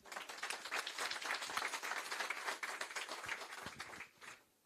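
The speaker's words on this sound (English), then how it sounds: "a round of applause for Victoria and the Deputy Minister" Audience applause after a World Bank Group climate and development report presentation, a steady wash of many hands clapping for several seconds before tapering off near the end.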